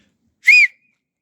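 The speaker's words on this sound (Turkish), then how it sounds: "Düdük." A single short, sharp referee's whistle blast starting a football match, clear and shrill, rising out of silence and stopping abruptly.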